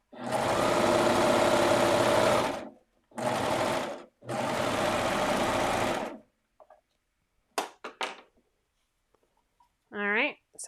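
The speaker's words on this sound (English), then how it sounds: "there's my bra serged on, or my bra elastic serged on" A serger stitches bra elastic in three loud bursts of rapid mechanical whirring, separated by short pauses and followed by a few quieter clicks, with a brief voice near the end.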